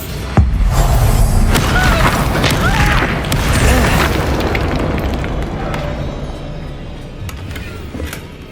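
The Expulso explosion spell goes off in Hogwarts Legacy with a sharp, loud blast, then a long, rumbling roar of debris and crackling that slowly dies down over several seconds.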